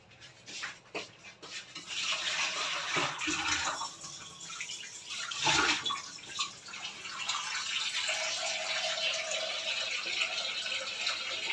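Water used for washing sweet potatoes splashes and streams out in bursts as it is poured away, a pouring rush with some clattering, fairly close and continuing for several seconds.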